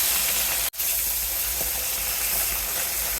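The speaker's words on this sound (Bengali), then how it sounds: "এখন ভেজে নেব এক একটি করে মাছ" Fish frying lightly in oil, one piece at a time, a continuous close hissing sizzle with a brief cutoff near the start, steady and fairly loud with no voices.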